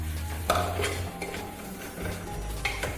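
Masala spices for a Kerala-style beef roast are stirred in a pan over a low flame, with light scrapes and metallic clinks of a utensil against the pan over a low steady hum and no talking.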